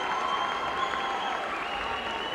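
Steady, dense applause and cheering from a crowd at a boys high school basketball game between Sacred Heart and St Francis fills the whole stretch at an even, loud level.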